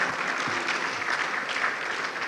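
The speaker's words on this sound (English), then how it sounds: "I'd like each and every one of you to give yourselves a round of applause" Conference attendees applaud together in a dense, even wash of clapping that holds steady and fairly soft from start to finish.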